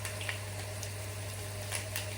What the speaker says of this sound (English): excuse the noise of the sizzling of the vegetables